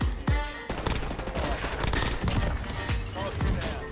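Submachine gun fire in Call of Duty: Warzone: rapid, close, punchy bursts of shots repeating throughout, loud and continuous, with crackling impacts between them.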